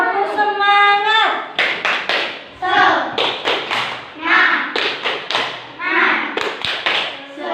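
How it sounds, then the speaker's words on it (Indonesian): A classroom of children performs a rhythmic spirit clap, loud sharp claps and desk taps in a patterned sequence, close and energetic, with children's voices chanting along throughout. "Tepuk semangat."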